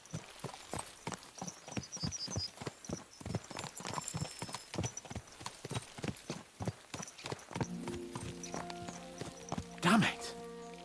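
Horse hooves clip-clop in a steady, quick rhythm while riding in Kingdom Come: Deliverance 2. The strikes are close and even, and tonal music with a brief voice joins near the end.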